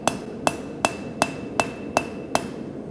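A blacksmith hammers a piece of steel to upset its top, seven sharp, evenly spaced ringing blows about a third of a second apart, close and clear with no talk.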